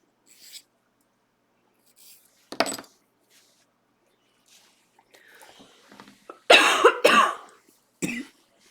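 A single person coughs several times in short, scattered bursts, with the loudest pair close together near the end and quiet room sounds between them.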